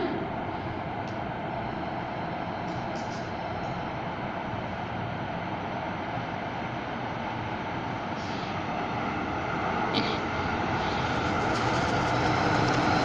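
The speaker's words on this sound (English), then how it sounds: "That looks like an SD160 pulling in." An Edmonton ETS LRT SD160 light rail train on the Metro Line pulls into a station, a steady loud rumble and rolling hum that swells slightly toward the end, with no talk over it.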